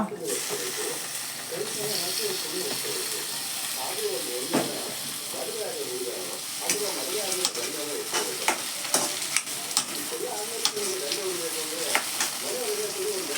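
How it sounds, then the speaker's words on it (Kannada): Tomatoes fry and sizzle in a pan with a steady hiss, while a spoon stirs and scrapes in repeated bursts close up, and a voice talks faintly underneath. "ಇದು ಟೊಮೆಟೊ ಹಾಕೋತಾ ಇದ್ದೀನಿ ಇವಾಗ."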